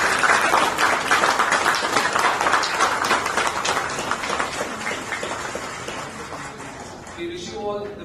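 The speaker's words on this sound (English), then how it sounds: "Please join me in giving the People and Culture Operations team a big round of applause." A large crowd applauding at a corporate ceremony for a team's go-live, dense clapping that is loud at first and slowly thins out, with a voice starting to speak at the end.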